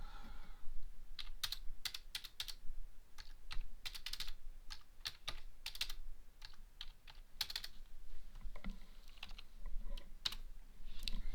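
Keyboard typing at a computer, a steady run of quick close key clicks in bursts with short pauses, fairly faint and with no talking.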